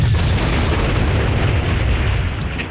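A rocket fires from a P-51D Mustang in DCS World, producing a loud, continuous roaring rumble with heavy low-end boom that holds for the whole moment and eases slightly toward the end.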